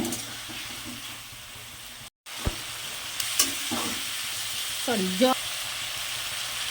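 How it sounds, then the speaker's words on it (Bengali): Spiced masala for a Bengali tangra fish curry with cauliflower sizzles steadily in a pan, a continuous close frying hiss with a few clinks and a brief faint voice near the end. "এবার একটু ভালো করে মশলাটাকে কষিয়ে"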